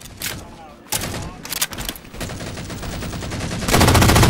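Automatic weapons firing in Halo 4 Slayer multiplayer, bursts of rapid shots close and loud, with a denser sustained burst near the end, players talking over parts of it.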